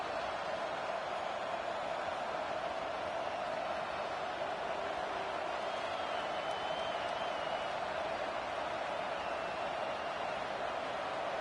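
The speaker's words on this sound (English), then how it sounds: "It is getting loud as this crowd tries to help its defense." Stadium crowd noise in a college football video game, Virginia versus James Madison, a steady broad roar that holds loud throughout, as the home crowd tries to help its defense.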